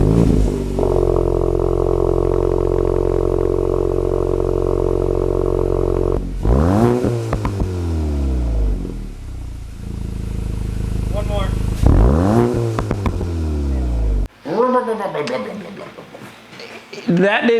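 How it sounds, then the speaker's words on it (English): A Volkswagen GTI engine with stock exhaust idles with a low rumble, then is revved several times in sharp rising-and-falling bursts, loud and close, with some voice heard near the end. "let's take a listen to that stock exhaust"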